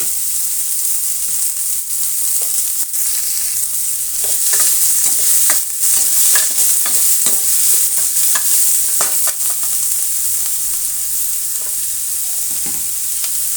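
Onions and curry leaves fry in a pan for a Kannada ridge gourd bassaru, a steady loud sizzle running throughout with repeated scraping stirs of a spatula, close and alone without voices.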